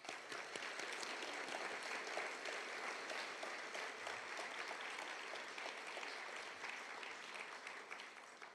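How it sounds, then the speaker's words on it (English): Audience applause for award winners at a business leadership awards event held by a university business school, a steady wash of many hands clapping in a hall, sustained evenly for over eight seconds and fairly faint. "Let's give another round of applause to the awardees."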